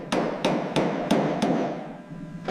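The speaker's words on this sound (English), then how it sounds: "Listen to the rhythm of the hammer." A hammer strikes sheet metal in a steady rhythm, six sharp clanging blows about a third of a second apart, fairly close, with no talking, during repair of a Cadillac Celestiq.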